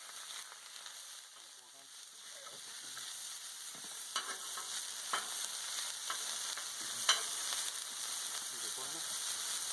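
Smashburger sliders sizzle and crackle steadily on a hot Blackstone griddle, a continuous bright hiss with scattered pops that grows slightly louder over time.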